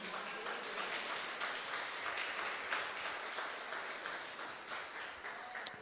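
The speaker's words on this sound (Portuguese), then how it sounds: "Levante suas mãos e aplaude o nome de Jesus" A church congregation applauds during a sermon, a steady wash of many hands clapping at moderate distance, fairly faint and even throughout, with no clear speech over it.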